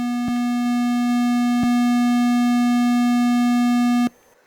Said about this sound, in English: you will hear straight away we come with like a simple square wave